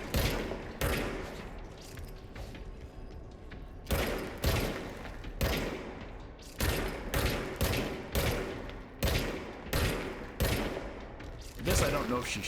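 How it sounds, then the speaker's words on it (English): Repeated bursts of gunfire from the video game Control, firing in rapid volleys roughly every second, loud and close, with a voice talking intermittently over the shooting. "Oh, I'm being shot at."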